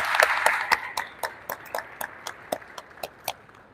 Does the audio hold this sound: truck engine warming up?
no